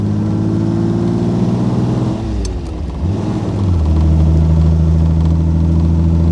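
A 1938 BMW 327/28 Sport Kabriolett convertible on a test drive, its engine humming steadily, dipping and shifting pitch as it changes gear, then pulling harder with a louder, deeper drone.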